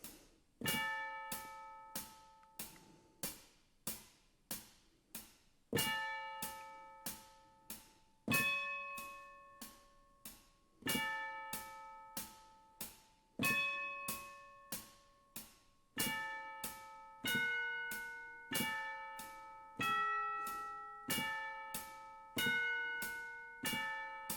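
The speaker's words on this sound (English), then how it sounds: "with my tubular bells, with the sound I'm using now instead of the church bells" Tubular bells voiced on a keyboard, pitched up a tone, ring out alone as a slow melodic sequence of struck, resonant tones, each note sharply attacked and decaying, with groups of notes spaced by brief pauses throughout.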